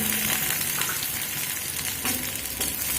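Chopped onion and garlic fry together in oil, producing a dense, even, close-up sizzle with occasional faint stirring scrapes and no voices.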